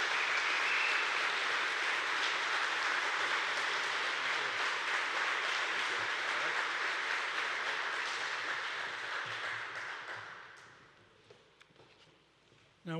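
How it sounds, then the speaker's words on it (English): A crowd at a facility opening breaks into sustained, dense applause that stays steady for about ten seconds, then thins and fades out. "Round of applause, please,"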